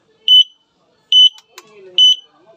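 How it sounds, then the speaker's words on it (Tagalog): Three short, shrill electronic beeps from an e-bike's piezo speaker power-on signal sound at even intervals, with faint handling noise between them. "final na natin power on signal"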